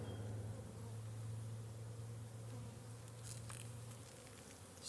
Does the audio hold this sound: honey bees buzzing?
yes